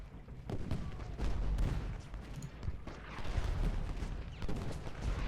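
Cannon fire in a Gettysburg Civil War battle game, artillery switched to solid shot: repeated deep booms and crackling volleys roll on continuously, with muffled rumble filling the gaps.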